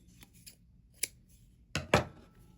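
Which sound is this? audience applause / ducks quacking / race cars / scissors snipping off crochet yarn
scissors snipping off crochet yarn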